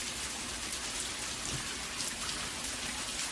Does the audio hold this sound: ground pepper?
no